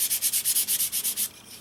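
Fine sanding pad rubbed lightly over the edges of an acrylic Halloween coaster, giving about a dozen quick, even, close-up scratchy strokes in a steady back-and-forth rhythm before stopping.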